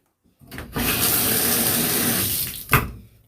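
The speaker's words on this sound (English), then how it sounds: "I got running water so I can wash the tub out" Water gushes from a tap into a tub, starting with a splash, then a steady close rush for about two seconds before cutting off with a final slosh.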